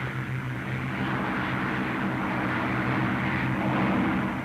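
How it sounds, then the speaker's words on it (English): A WWII fighter plane engine roars at full throttle during take-off, a loud, steady, close droning that holds evenly throughout. "Now the take-off. Throttle right forward. Stick central. Ease her off the ground."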